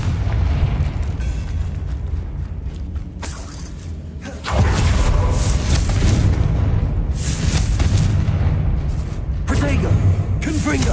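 Confringo explosion spell in the video game Hogwarts Legacy: a sudden loud blast erupts after a brief lull, followed by sustained rumbling and crackling debris over busy game audio, with speech present.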